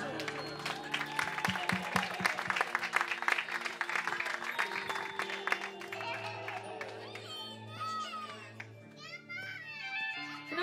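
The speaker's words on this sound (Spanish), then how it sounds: "Un fuertísimo aplauso para ellos, por favor, que se escuchen" Guests applaud at a quinceañera celebration, with scattered clapping and crowd noise that gives way to children's voices and chatter, with music underneath.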